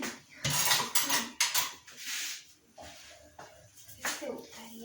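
A spoon scrapes and stirs food in a pan during breakfast pancake and French toast cooking, with several loud clattering scrapes close by and a person talking over the metallic knocks.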